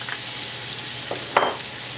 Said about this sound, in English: extra virgin olive oil, and then we're going to soften the shallot